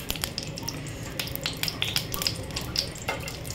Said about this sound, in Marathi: ते व्यवस्थित वितळून घेतलं की त्याच्यामध्ये आपण गरम मसाले घालू